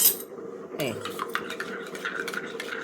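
A spoon stirs and scrapes through food in a metal pot, making close, rhythmic clinks and rubbing strokes, with a faint hum in the background.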